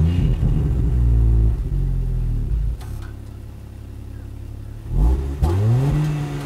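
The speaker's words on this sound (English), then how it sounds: "Let's take a listen to see what that inline six-cylinder engine sounds like." A 2020 Range Rover Sport MHEV inline six-cylinder engine revs loudly up close, rising and falling through two throttle blips with a steady idle rumble between them.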